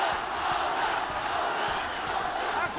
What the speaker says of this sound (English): And the crowd get into it again.